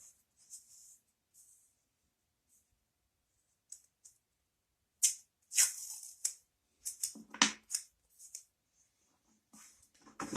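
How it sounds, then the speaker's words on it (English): Adhesive tape is pulled tight and stuck across pieces being joined, giving sharp crackling rips and sticky peels in short bursts, sparse at first and then clustered and louder, with quiet gaps between and no voices. "I'm going to line the back side of each one of these, pull it tight, and tape it together"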